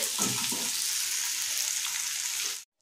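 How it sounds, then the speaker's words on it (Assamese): Duck meat frying in a pan over medium gas, a steady close hiss and sizzle of hot oil with a few stirring clatters early on, cutting off abruptly at the end. "গেছটো মিডিয়াম কৰি মই ভাজি থাকিম"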